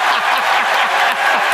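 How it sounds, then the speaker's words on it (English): Live audience applauding a contestant at a comedy show, steady dense clapping throughout with a few cheers, loud and close, no talk over it. "Round of applause for Anna,"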